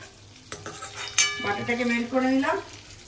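Butter sizzling in a hot pan for fried rice, a soft steady fizz with a couple of sharp utensil clinks against the pan and some scraping and stirring noises.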